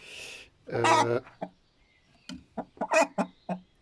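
A broody hen makes a drawn-out, throaty vocalisation, then after a pause gives a run of short, close clucks in an uneven rhythm, with no talking.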